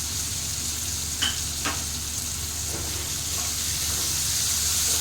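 Slit green chillies sizzle and fry steadily in a pan with tomatoes for an ilish fish curry, a continuous close hiss with a couple of faint stirring clinks.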